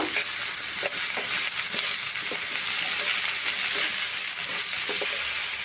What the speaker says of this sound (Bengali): লবণ তেলে একটু ঝিঙেগুলো কষে নেব